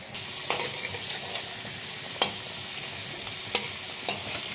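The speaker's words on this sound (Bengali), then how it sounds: "ট্যাংরা মাছগুলো তো তেলে ফাটবে" Tangra fish sizzle in hot mustard oil with a steady crackle, broken by several sharp spattering pops and stirring clicks.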